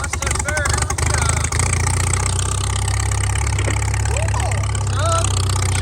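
Antique tractor engine at a West End Fair tractor pull, running loud and steady as it is throttled up, a continuous low rumble with a few sharp knocks early on and faint chatter and whistles in the background.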